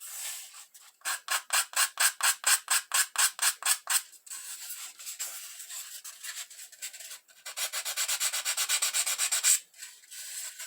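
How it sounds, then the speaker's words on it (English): A nail file rounding the edges of a small model crate, giving quick rhythmic rasping strokes, a fast even run, a pause, then another brisk burst of rubbing, close and clear. "I'm just going to take a nail file and just kind of round them a little."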